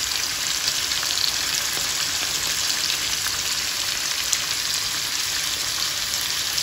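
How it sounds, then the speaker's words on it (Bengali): Brinjal pieces fry alongside prawns in hot oil, a dense, even, close sizzle like steady rain that continues throughout without talking. "আর সঙ্গে কিছু বেগুনও সেমভাবে ভাজি করে নিচ্ছি"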